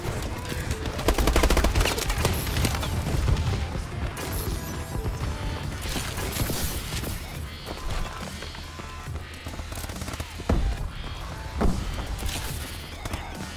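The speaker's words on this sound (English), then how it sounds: "Where am I being shot from?" Dense, continuous gunfire from Call of Duty: Advanced Warfare multiplayer on the Perplex map, with rapid automatic bursts, overlapping shots and occasional louder impacts filling the whole stretch at steady high loudness.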